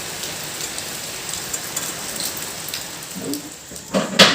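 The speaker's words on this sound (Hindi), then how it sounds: "और ये देखो शाम को तो बारिश आ ही गई" Steady evening rain falling and pattering on surfaces outdoors, a dense continuous hiss with a few louder close drops and knocks near the end, no talk.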